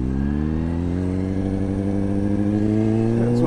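A Corvette sports car passes close by with a loud, steady engine note that rises slightly as it revs, a continuous rumbling drone with no talking.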